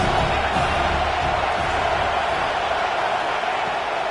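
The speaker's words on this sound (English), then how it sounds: "This crowd trying to make life miserable for this offense." A college football stadium crowd at an Ohio State vs Penn State game gives off a dense, sustained roar, loud and steady throughout with a constant wash of distant cheering.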